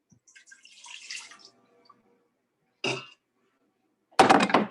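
Water is poured into an Instant Pot in a home kitchen, coming as a faint splash and then two short, brighter bursts of sloshing liquid, near and clear with no talking.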